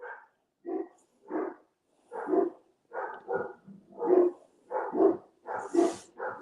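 Several dogs bark repeatedly at a passing dog being walked, a steady series of about a dozen loud barks spaced roughly half a second apart, close by and without talk.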